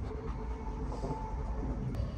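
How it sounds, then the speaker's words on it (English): Passenger train running from Stevenage into London, a steady low rumble and rattle of the carriage with faint clicks of wheels on track throughout, no voices. "as we take the train from Stevenage into London"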